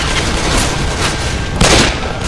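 Gunfire in Left 4 Dead 2 cracks in loud, close, rapid bursts, with a heavier blast near the end and no speech over it.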